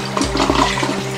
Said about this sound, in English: let's go ahead and flush the toilet and see what happens